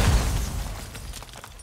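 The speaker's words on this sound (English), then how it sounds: "The grenade blew up his landmine that" In the Modern Warfare 2 beta video game, a grenade detonates and sets off a landmine in a chain reaction. It opens with a loud, deep blast that rumbles and fades over a second or two, with crackling debris at the end.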